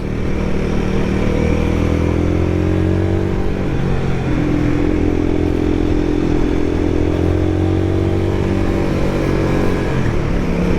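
A Royal Enfield Guerrilla 450 motorcycle engine drones loudly and continuously on mountain roads, its pitch rising and falling as the rider revs and shifts, revs lingering around 7,000 rpm, close to the microphone.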